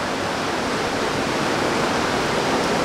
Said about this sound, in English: Definitely a nice sound of the river there.